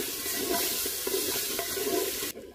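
Green and red chili paste sizzles and fries in a handi, with a steady loud hiss and scattered stirring scrapes that stop abruptly near the end.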